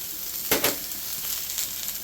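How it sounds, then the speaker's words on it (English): Sliced onions lightly cooking in a pan for a fish jalfrezi, a soft continuous sizzle with a couple of sharper crackling bursts early on, close and alone. "We just need to lightly cook these onions."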